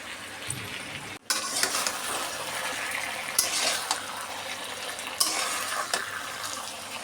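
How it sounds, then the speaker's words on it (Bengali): Okra stir-fries in a pan with mustard paste, tomato and green chili. A steady sizzling hiss continues after a brief gap, punctuated by a few sharp scrapes of stirring, close and unaccompanied by speech. "সর্ষের সাথে এবার ভেন্ডিটা আমি ভালোভাবে নাড়াচাড়া করে বেশ কিছুক্ষণ কষিয়ে নেব"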